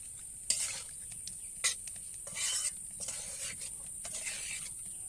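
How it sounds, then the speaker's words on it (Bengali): Snakehead fish being stir-fried in a pan over a village clay stove: a faint, steady hiss with intermittent scraping and spatter bursts as the pieces are turned, no talking. "আমার মাছটা কষানো হচ্ছে"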